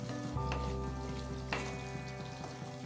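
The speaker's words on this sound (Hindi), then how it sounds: "इन सब मसालों को हमने अच्छे से भून लेना है।" Spices for a dhaba-style dum aloo masala fry in hot oil with a steady close sizzle and crackle, a couple of sharper pops and spoon scrapes breaking through, no voices.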